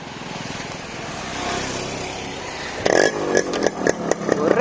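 A motorcycle engine fires up after a quiet stretch, catching with a sharp burst and then revving in uneven blips, close and fairly loud, with a faint idle-like drone beforehand.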